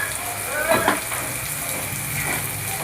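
Spice paste with turmeric and Kashmiri chili powder frying in a pan for a katla fish dish, a steady close sizzle with a brief stirring scrape partway through.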